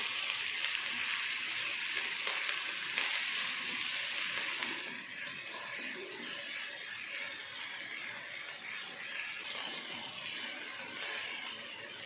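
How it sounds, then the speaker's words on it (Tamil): Chopped green chillies, curry leaves and coriander sautéing in hot oil, a steady bright sizzle that is louder at first and then settles into a softer continuous hiss. "சின்னதாக கட் பண்ண பச்சை மிளகாய் 2, கறிவேப்பிலை, கொத்தமல்லி 1 நிமிஷத்துக்கு ஆயிலே வதக்கிடலாம்"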